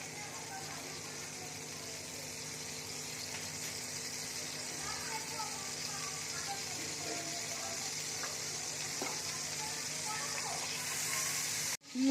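Butter and half a spoon of ghee sizzle in a pan while rajma is cooked, a steady close hiss that runs evenly for about twelve seconds before cutting off abruptly.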